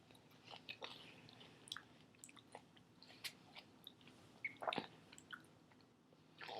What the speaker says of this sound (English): All right, so I'm going to eat the starfruit.